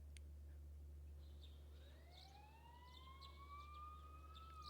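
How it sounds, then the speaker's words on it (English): Distant sirens from a Persona 4 Golden cutscene wail in long rising sweeps over a steady low hum, faint and far off, with no one talking. "You can hear sirens in the distance."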